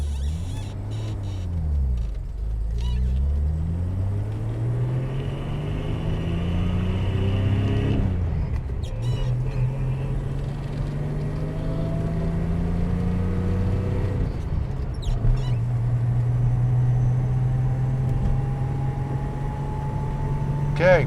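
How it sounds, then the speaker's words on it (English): A 1974 Datsun 260Z engine drones from inside the cabin, its pitch rising through gears with breaks at each shift, continuous and fairly loud. "I'm going to turn the fan down a little bit so you can hear the motor shifting."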